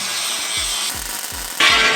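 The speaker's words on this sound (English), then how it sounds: "So I'm gonna grind that out and then weld it again." Angle grinder grinding porosity out of a weld bead, a harsh, loud, continuous abrasive whine with rhythmic low thumps as the disc is worked back and forth, getting louder and brighter near the end.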